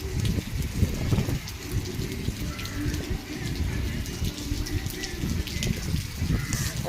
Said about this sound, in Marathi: बाहेर चालू आहे खूप खूप खूप खूप जास्त पाऊस